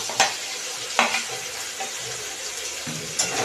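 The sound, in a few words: fried okra stirred into mustard and green chilli curry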